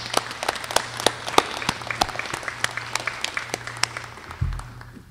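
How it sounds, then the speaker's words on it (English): Sustained audience applause at a college commencement ceremony, many hands clapping steadily throughout with a brief louder swell near the end. "Let's give them all a round of applause."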